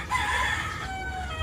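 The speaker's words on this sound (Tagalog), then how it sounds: "Ito yung manukan nila." A rooster crows with a drawn-out harmonic call over a low, steady chicken-farm rumble.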